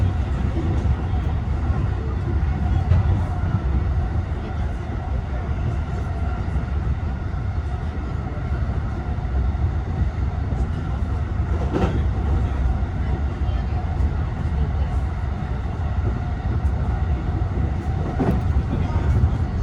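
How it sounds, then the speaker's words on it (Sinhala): A train pulls into a station with a loud, steady rumble and low mechanical roar that continues throughout, with faint voices in the background. "ට්‍රේන් එකට නගින්න හින්දා අපි වහනවා දැන් ආව ට්‍රේන් එක."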